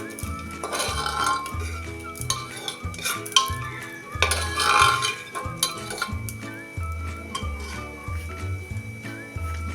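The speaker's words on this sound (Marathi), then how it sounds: "खारीक आता ही थोडीशी परतून घेऊया" Chopped dry dates sautéed in a pan for a sweet mango preserve, with repeated scraping and clinking of a spatula against the metal pan and a low steady sizzle throughout, no voices.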